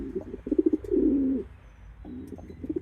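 A racing pigeon coos close by in soft, repeated throaty phrases, one drawn-out coo in the middle, with a low rumbling background and no talking.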